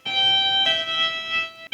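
Slow electric guitar tapping of a solo, with sustained harmonic-rich notes ringing one after another and a brief pause before a final note.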